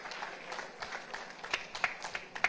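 Audience applause at a document signing ceremony during a Uganda–Somalia investment and business summit, a scattered, moderately loud crowd clapping with individual sharp claps standing out, steady for a few seconds.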